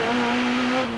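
A touring car at Amaroo Park in the 1988 ATCC race accelerates hard out of a tight left-hand corner, its engine holding a loud, steady high-revving drone close by for about a second.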